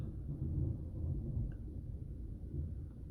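Distant thunder rumbles low and steady through a storm, a soft, continuous growl that swells slightly and carries no talking.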